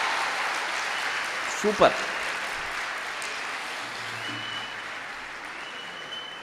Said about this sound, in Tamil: இந்த ஸ்கூலில் இருக்கிற அத்தனை டீச்சர்ஸ்க்காகவும் நல்ல பலத்த கரகோஷம் கொடுத்துடலாம்